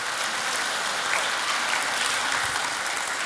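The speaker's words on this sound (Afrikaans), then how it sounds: "kom ons geef hulle 'n lekker hande klap" A church congregation at a Sunday morning service claps for the grade 1 children, a dense, even burst of applause that fills the room for a few seconds without pause.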